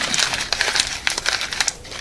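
Scrap paper is crushed and wadded into a ball by hand, making close, crisp crinkles and crackles in irregular bursts.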